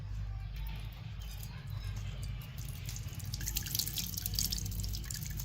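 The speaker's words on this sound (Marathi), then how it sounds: "कढीचं पाणी काढायचं आपण, खाली गाळ राहतून वरच असं ओतून काढायचं." Crab broth liquid being poured off to leave sediment behind: a quiet, continuous trickle and patter of liquid, faint and close, steady throughout with a low hum beneath.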